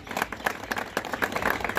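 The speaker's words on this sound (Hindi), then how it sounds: "तालियों के साथ स्वागत।" A crowd at a political gathering claps to welcome a speaker, the claps quick and irregular, moderately close and fairly steady through the short stretch.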